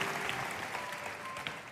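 A congregation at a teen church service claps together, a dense, continuous burst of applause filling the room throughout this short moment.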